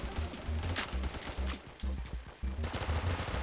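Rapid AK47 gunfire in a Roblox shooter game comes in repeated automatic bursts of sharp shots, fairly quiet overall.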